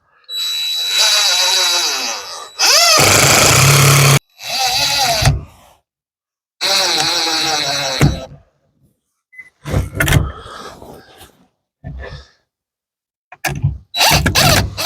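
A cordless drill screws a camera mount into place at an off-grid Alaska cabin, whirring close by in four or five separate bursts of a few seconds each, with short pauses and light clatter between them.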